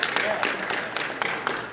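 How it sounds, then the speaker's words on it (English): A church congregation at a miracle testimony service gives a woman a round of hand claps, a fairly close, rhythmic patter of applause with audible individual claps and a voice speaking underneath. "Let's give her a hand clap for her willingness to pray."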